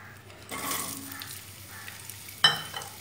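Potatoes sizzle in a hot pan as they are stirred, with a steady close frying hiss and a sharper burst of sizzling near the end.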